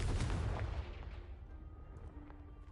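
A Confringo blast spell in Hogwarts Legacy sets off a single broad boom that rolls out and fades over a couple of seconds, fairly quiet, with no speech.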